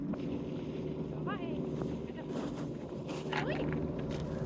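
A fishing boat's engine runs off Greenland among the ice, a steady low drone under wind buffeting the microphone, with brief faint higher sounds over the hum.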